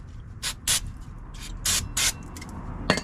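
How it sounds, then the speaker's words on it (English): Brake cleaner sprayed from an aerosol can onto a rusty rear brake part of a 1999 Ford F150, several short hissing bursts with pauses between, fairly close and loud. "So we'll hit it with a little bit of brake clean"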